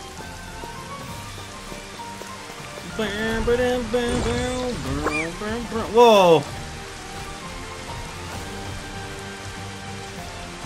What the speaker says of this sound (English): It is now raining again